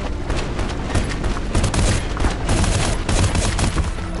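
Continuous rapid gunfire from the shooter game E.Y.E: Divine Cybermancy, loud and close, with dense overlapping shots and automatic bursts throughout and no pause.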